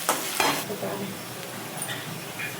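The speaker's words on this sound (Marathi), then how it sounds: "कांदा आता परतत आलेला आहे" Onions sautéing in a pan until they start to redden, for a home-cooked bitter gourd curry; soft, fairly quiet sizzling with a few sharp scraping stirs near the start, followed by a steady low crackle.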